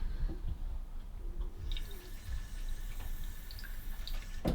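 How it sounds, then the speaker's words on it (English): Water runs from a tap into the small reservoir of a Tefal Pure Pop handheld steamer, a low, steady splashing trickle with faint drips, then a sharp clatter at the end. "And filling the rest up with water."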